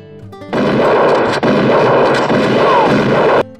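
Loud, continuous rattling gunfire fills the clip for about three seconds, a dense burst of rapid shots up close.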